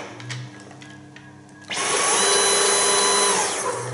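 A Dyson stick vacuum cleaner fitted with an electric mop head switches on after a quiet stretch, then runs with a loud, steady high-pitched whir and hum close by, without talk.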